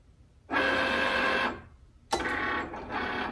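A Cricut cutting machine cuts a design, giving a steady mechanical whir that runs for about a second, stops briefly, then starts again sharply and continues to the end.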